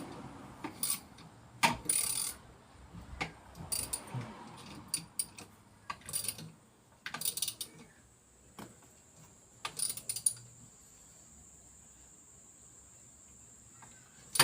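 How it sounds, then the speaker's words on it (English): A hand ratchet works on the AC tensioner pulley bolt of a 1999 Subaru Liberty with an EJ251 engine, giving short bursts of clicking and metallic rattles separated by quiet pauses, close by with no talk. "I could tighten up with my fingers first, then use the ratchet."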